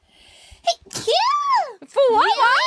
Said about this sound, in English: Your first off-collab sneeze.